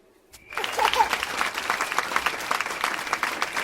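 After a brief silence, a crowd at a poetry gathering (kavi sammelan) breaks into sustained, dense applause that holds steady at a moderate level until the end.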